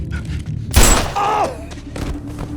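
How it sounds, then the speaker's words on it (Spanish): A gunshot in a dramatic movie scene, one sharp, loud blast with a brief ringing tail, set against a music score and ambient noise with no voices. "abate al hombre de un disparo certero"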